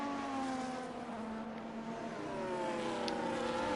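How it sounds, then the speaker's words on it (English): Formula 1 race car engine in a Canada-round racing video game, a high, smooth whine with rising and falling harmonics as the car shifts, steady and close without talk. "That car noise is nice to hear."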